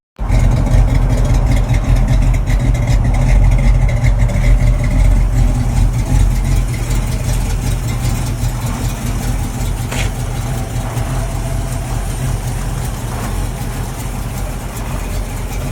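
A 1994 Ford Crown Victoria LX engine runs steadily at idle, a loud, low, constant rumble that eases slightly in level as it continues.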